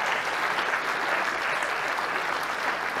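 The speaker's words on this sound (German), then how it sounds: "Nochmal Applaus" An audience at a live comedy show breaks into sustained, even applause, a continuous close wash of clapping with no pauses and no talk over it.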